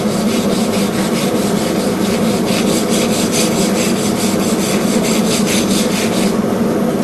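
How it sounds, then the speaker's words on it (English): A fine wire brush scrubs roughness off a hammer handle in loud, rapid back-and-forth strokes, a continuous scratchy rasp very close up. "take a fine wire brush and get all the roughness off of it"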